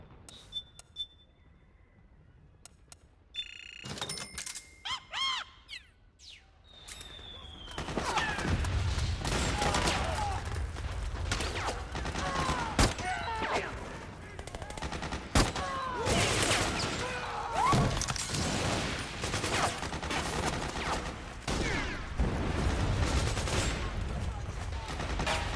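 Unsuppressed gunfire from a video game crackles in rapid bursts and sustained volleys, loud and dense, over a steady low rumble of game ambience with no talking.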